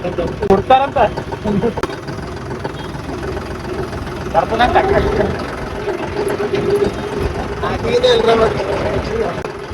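A new tractor engine idles with a steady low chugging rumble, while people talk nearby over it throughout.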